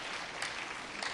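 A church congregation claps in brief, dense applause, steady and moderately loud throughout.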